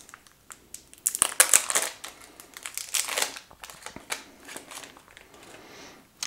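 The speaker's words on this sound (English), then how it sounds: "So we'll go ahead and take out the plastic wrapping here." Plastic wrapping crackles and crinkles loudly as it is peeled off a new Amazon Fire TV Stick box, in dense bursts of crumpling with short pauses, fading to quieter rustling.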